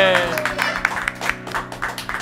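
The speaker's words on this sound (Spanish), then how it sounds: "Fuertes aplausos" Audience applause rises at a Argentine radio show with a cuarteto band, steady clapping and a few cheers running under a host's voice and lively talk throughout.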